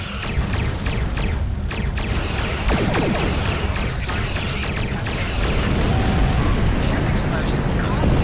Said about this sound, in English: Explosions cause damage. Put some distance between yourself and exploding ships.